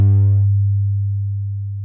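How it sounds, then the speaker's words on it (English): A single 100 Hz sine tone generated by Mathematica decays smoothly over about two seconds, a pure steady hum that fades gradually with no other sounds around it. "here I've got Mathematica playing a sinusoidal tone"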